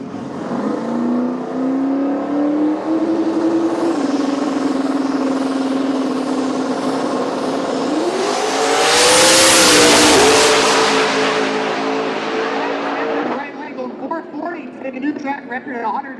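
Drag racing cars launch and accelerate down the track, a loud, sustained engine howl climbing in pitch with a roaring surge as they pass close by, and an announcer talks over it.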